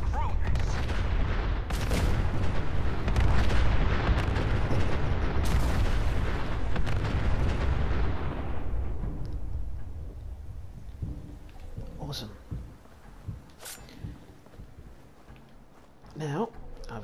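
A shed full of robots blows up in the Fallout 4 video game, a long loud rumbling explosion with scattered blasts that fades after several seconds into quieter intermittent pops and thuds.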